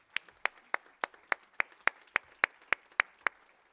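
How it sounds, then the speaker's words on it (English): A council meeting audience at People's Question Time in Hounslow clapping in a steady, even rhythm, about a dozen crisp claps spaced evenly over a few seconds, moderately close with no talking. "Let's give Tony a round of applause, please."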